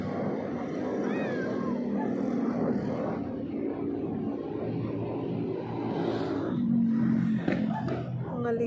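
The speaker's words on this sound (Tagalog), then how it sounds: "Ligaw na pusa." A stray cat meows a few times amid outdoor background noise, with the calls moderately near and soft, and a faint drone like a passing propeller aircraft underneath.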